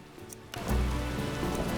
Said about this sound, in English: Raining so hard I can't see anything.